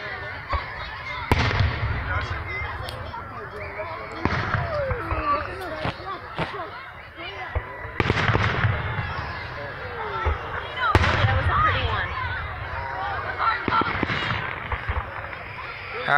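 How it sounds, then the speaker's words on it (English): Fourth of July fireworks pop and crackle repeatedly at a distance, sharp bursts every few seconds over a steady crowd murmur and nearby talking. "These are some beautiful fireworks"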